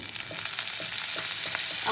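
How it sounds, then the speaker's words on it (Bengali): Butter heats in a wok and sizzles in a steady, close frying crackle with small bursts of spatter, fairly quiet and with no voice over it. "এবার কড়াইতে আমি বাটার দেবো পরিমাণ মতন।"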